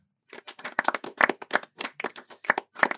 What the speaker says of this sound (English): I love the audience clap.